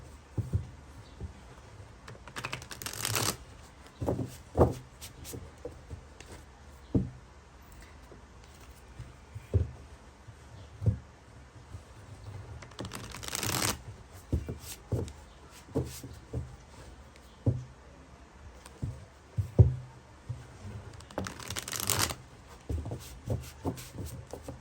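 Tarot cards being shuffled, soft papery riffles and rubbing with occasional louder swishes and small taps, close and quiet, no voices.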